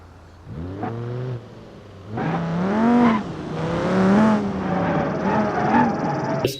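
A tempo vehicle engine sound effect revs in repeated rising and falling bursts, with a whining, tonal drone that climbs in pitch several times, close and fairly loud, with no talk over it.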